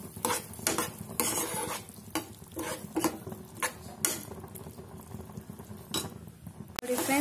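Beans gravy for palya bubbling in a pan while being stirred, with a soft sizzle underneath and a series of sharp scraping and clattering strokes at irregular intervals.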